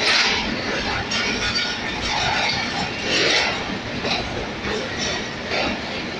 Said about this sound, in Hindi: अभी 36 ग्राउंड सर सैयद एक्सप्रेस रवाना हो रही है